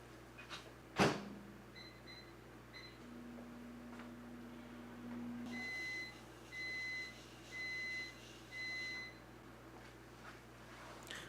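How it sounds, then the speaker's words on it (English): A microwave oven runs with a steady low electrical hum under the quiet, then a series of four high beeps sounds in an even rhythm near the end, after a sharp knock. "So we're gonna microwave this."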